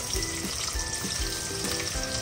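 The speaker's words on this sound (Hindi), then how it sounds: "तेल हमारा अच्छे से गर्म हो चुका है, इसमें मैं कांदे को डाल देती हूँ।" Onions sizzle loudly as they fry in hot oil in a pot, a dense continuous crackling hiss with faint stirring, close up and without speech.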